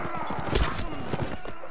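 Rapid clip-clop of horse hooves in the Mount & Blade video game, busy and close, mixed with game clatter and a faint neigh.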